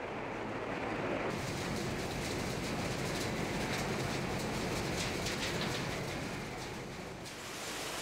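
A steady, heavy rumble of a freight train rolling past on a limestone works' private sidings, constant and fairly close, with faint bird calls in the background.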